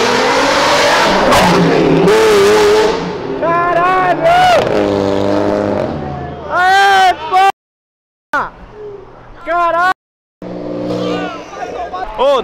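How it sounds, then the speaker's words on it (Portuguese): A Lamborghini Diablo passes close by on a Brazilian street, its engine revving hard through repeated rising accelerations, with excited voices talking over it and brief dropouts between bursts. "Do nada uma Diablo passando aqui, acelerando tudão, velho."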